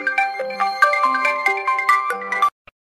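A mobile phone ringtone plays a bright, repeating electronic melody of loud, close tonal notes, then cuts off abruptly just before the end. No one speaks.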